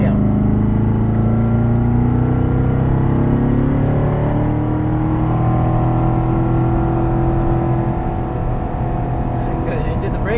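Chevrolet Corvette Stingray engine pulling hard at full throttle on a track, a loud continuous roar with rising pitch as it accelerates, close and dominant throughout.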